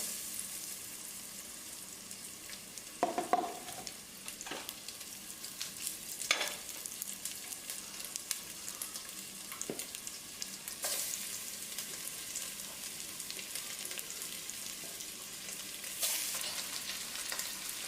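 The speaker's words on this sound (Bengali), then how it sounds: "তেল ভালোই গরম হয়ে গেছে, এবার আমরা একটু একটু করে মাটনটা এর মধ্যে দিয়ে দেবো।" Pieces of mutton drop into hot mustard oil and fry with a faint, steady sizzle, broken by occasional sharper crackles and stirring scrapes, with no voices.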